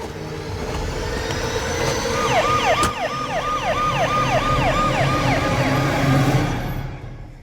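An ambulance siren wails in a steady, repeating rise-and-fall pattern, loud and close, over a constant rumble of traffic, fading slightly toward the end.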